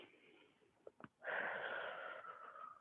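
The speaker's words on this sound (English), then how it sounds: "Take a deep breath." Someone breathing in deeply at the close of a low-intensity stretching session: two short sniffs, then a long, loud, airy inhale of about a second and a half that gradually fades.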